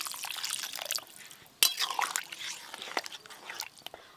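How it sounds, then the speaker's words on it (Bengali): A little water splashes into a chole masala mixed with tea liquor, one sharp close splash followed by soft trickling and dripping with no voices. "আর একটু জল লাগবে, অল্প একটু জল দেব।"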